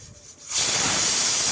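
Pressure cooker on full flame, cooking macaroni, lets out a burst of steam: a loud, steady, close hiss begins abruptly after a brief quiet moment and continues to the end.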